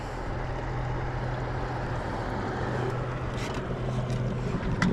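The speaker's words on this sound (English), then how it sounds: "Cut my trolling motor speed down just a tad." Trolling motor pushing a fishing boat while chasing channel catfish on jugs, a steady low hum and water wash throughout, moderately quiet with faint wind noise.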